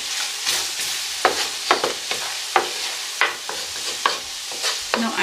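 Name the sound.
stirring curry on the stove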